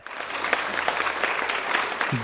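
A studio audience claps at the start of a Kannada farm show, a dense burst of applause lasting a couple of seconds with no voices over it.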